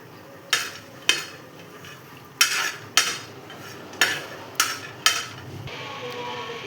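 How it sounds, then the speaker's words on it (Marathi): Grated coconut roasting in a pan until reddish-brown, with seven sharp scraping knocks of a spoon stirring against the pan spread across the stretch over a faint background hiss. "आपल्याला खोबरंसुद्धा भाजून घ्यायचं आहे."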